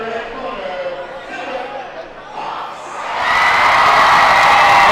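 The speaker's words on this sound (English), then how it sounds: "And that crowd is going bananas for Mr. Philip Fox" A boxing arena crowd cheers as an announcer talks over it, the roar swelling into loud, sustained cheering and whooping in the final seconds.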